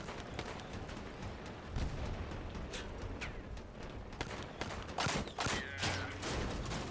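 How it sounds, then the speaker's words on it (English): Autocannon fire in the vehicle combat game Crossout, heard as rapid bursts of sharp cracks and booms over a steady noisy battle din, growing denser toward the end. "I do not like autocannons at this angle."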